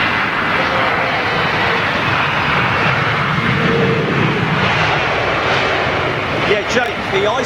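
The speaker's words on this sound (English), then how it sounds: "Jake, the Iceland Air 757. Still taxiing" An Icelandair Boeing 757 taxiing at Heathrow in stormy conditions: a steady, loud jet engine roar with broadband rushing noise that holds constant throughout, with faint wind and a few knocks near the end.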